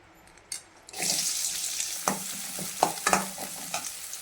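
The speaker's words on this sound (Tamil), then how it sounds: "ஆயில் காஞ்சிருச்சு. இப்போ வெங்காயம் போட்டுக்கலாம்." Onions drop into hot oil in a pan while cooking kothu parotta, setting off a sudden loud sizzle that keeps crackling. Stirring clinks and scrapes sound close by.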